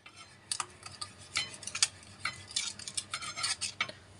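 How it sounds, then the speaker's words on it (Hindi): A spoon stirring lemon juice and potato juice together in a small bowl for a homemade hair remedy, quick irregular clinks and scrapes against the container, close but fairly quiet, with no talking. "नींबू के रस और आलू के रस को आपको आपस में अच्छे से मिक्स कर देना है"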